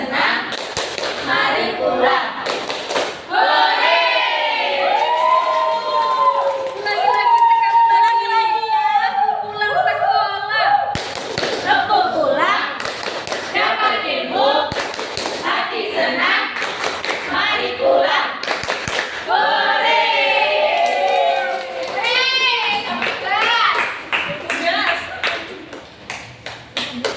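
Elementary schoolchildren in a classroom do a rhythmic clapping chant, sharp hand claps punctuating loud, sing-song group voices, ending in excited cheers.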